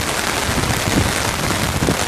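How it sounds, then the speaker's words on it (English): Heavy rain pours down during a flood, a dense, loud, continuous hiss of drops hitting surfaces up close, with no voices. "No, it's still raining."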